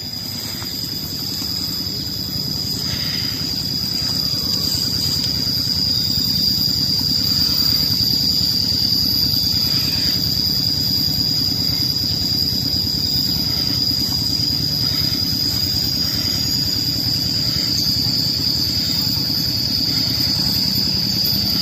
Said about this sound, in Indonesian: Oh itu traktor sawah kayaknya